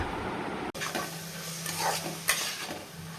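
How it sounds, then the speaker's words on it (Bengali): Saag (leafy greens) sizzles steadily in a hot frying pan, close and continuous, with a scrape of stirring partway through and a brief sharp clatter near the start. "এদিকে আমার শাক ভাজা করা কমপ্লিট"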